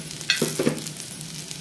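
Dried coconut pieces roasting on a hot tawa for misal masala, a brief close sizzle with light scraping strokes of a spatula, no voices.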